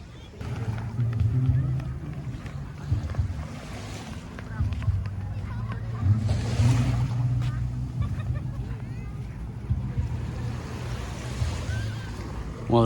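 Evening waves wash onto the beach at Barrio Barretto in soft, recurring surges, with wind buffeting the microphone and someone talking over the surf.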